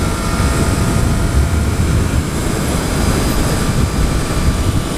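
A 2014 Triumph Street Triple R motorcycle engine runs steadily while riding, a loud continuous drone mixed with rushing wind noise, without pauses.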